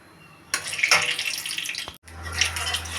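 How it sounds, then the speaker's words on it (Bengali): Whole mustard seeds are dropped into hot mustard oil and splutter with a sudden bright crackling sizzle, briefly interrupted before the sizzling resumes. "তেলটা গরম হয়ে গেছে, এর ভেতরে আমি দিচ্ছি কয়েক দানা সর্ষে"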